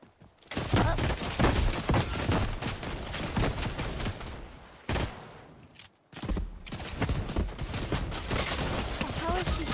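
In the video game Fortnite, dense gunfire pours toward the player in sustained loud volleys, breaking off for a brief pause before resuming, with no talk in between.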